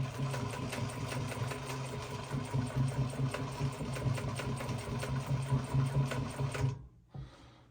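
A sewing machine stitches through a Tethrd Phantom hunting saddle, running steadily with a fast mechanical rattle and hum for several seconds before stopping abruptly, followed by a brief short burst.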